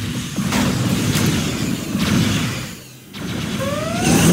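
Heavy booming blasts and mechanical rumbling from a particle cannon strike in the real-time strategy game Command & Conquer Generals Zero Hour, several loud impacts spread over a few seconds with a rising whine near the end.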